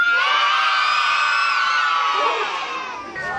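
Loud massed shouting from a crowd of children at a 1993 town festival in Oberkochen, a sustained high-pitched roar of voices that holds strong and then tapers off near the end.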